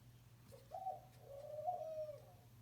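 Soft, low cooing of a pigeon or dove, a couple of drawn-out murmuring calls close by over the steady low hum of a Hunter ceiling fan, with no talking.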